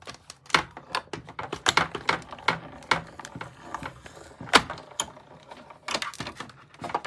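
An envelope inside an embossing folder being cranked through a manual embossing machine, giving a run of rapid, uneven clicks and ratcheting mechanical taps, close and fairly loud.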